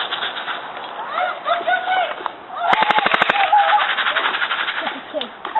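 Outdoors in bushy ground, airsoft guns fire a rapid burst of sharp clicking shots midway through, while birds call and coo in the background.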